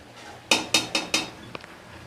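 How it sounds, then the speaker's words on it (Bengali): Mutton frying in a pot is stirred with a metal spoon: four sharp, evenly spaced clanks against the pot, then two faint taps, close by and with no talking. "আর এভাবে আমি নেড়ে নেড়ে কষাবো"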